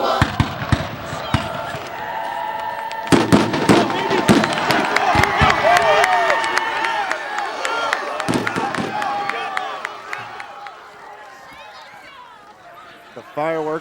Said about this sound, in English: The fireworks going off here at Hampden Academy